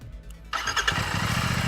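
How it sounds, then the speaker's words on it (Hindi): A Royal Enfield Bullet 650 motorcycle starts up close by: the engine catches after a brief crank, then settles into a loud, steady, pulsing exhaust thump at idle. "ये इसका एक्चुअल जो फायरिंग है, जो नोट है एग्जॉस्ट नोट, वो इस तरह का आपको मिलेगा।"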